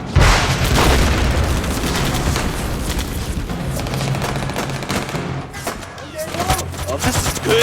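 Gunfire and explosions in a war film, dense continuous machine-gun bursts and heavy booms with shouting voices mixed in throughout.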